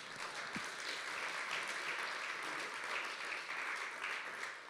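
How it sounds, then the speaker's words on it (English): A church congregation claps hands together in sustained, dense applause, a steady crackling wash of many hands lasting the whole stretch with no voices over it. "Just give the Lord a hand clap."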